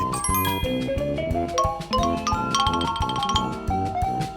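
Bright, ringing xylophone notes step through a melody over a steady, bouncy music backing.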